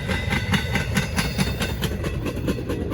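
Norfolk Southern train 915 rolls past northbound, a steady rumble of rail cars with rhythmic clickety-clack wheel beats repeating at close range, loud and continuous with no talking.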